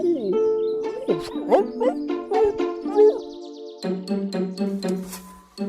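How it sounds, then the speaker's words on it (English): A dog barks repeatedly in short yaps mixed with whiny, whimpering calls, close and fairly loud. "he stopped and started barking persistently"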